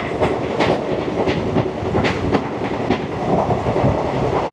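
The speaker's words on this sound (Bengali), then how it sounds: "আর ট্রেন তো চলছে পুরো একদম ধুমাধার।" Paharia Express racing along at full speed, a loud, continuous rumble of wheels with rhythmic clickety-clack beats, heard close and without voices.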